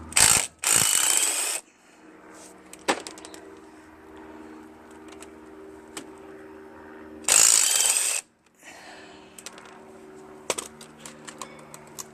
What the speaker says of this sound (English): Get the back ones off, I'll have to use a wrench.